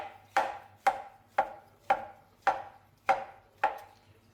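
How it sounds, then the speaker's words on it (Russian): A knife slices fresh king champignon mushrooms on a cutting board, seven even strokes in a steady rhythm, close and clear with no talking. "Грибы мы нарежем слайсами."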